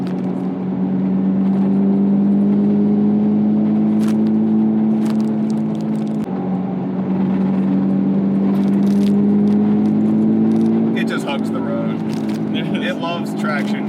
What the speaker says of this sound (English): because of the exhaust, a neighbor is going to think, why is this car going 80 miles an hour in front of my front lawn?